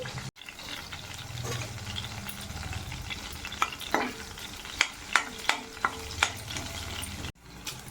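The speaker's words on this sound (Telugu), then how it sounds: "అదే కడాయిలో కొంచెం ఆయిల్ వేసుకుని వెల్లుల్లిపాయలు తొక్క తీసినాయండి కొంచెం బాగా ఫ్రై అవ్వాలి వెల్లుల్లి" Garlic cloves frying in oil in a kadai make a steady close sizzle, with a few sharp clinks of a utensil stirring and scraping the pan near the end.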